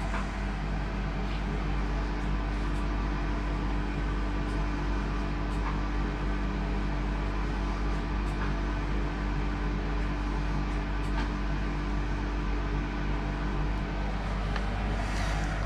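The mechanism of a Glendale 'Jumbo' elephant arcade machine runs continuously, a steady low droning hum with a faint whir and no pauses, with no voices.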